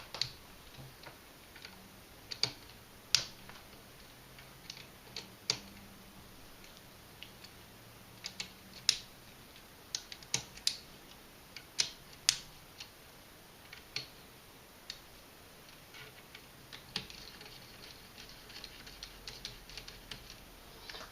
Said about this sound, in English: Alright, we'll start off by loosening the caps.